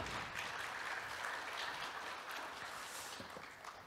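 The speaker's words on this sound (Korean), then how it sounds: "박수로 맞으시면 감사하겠습니다." Steady applause from the audience at an academic lecture event, welcoming guests onto the stage, continuous clapping that gradually softens toward the end, fairly quiet overall.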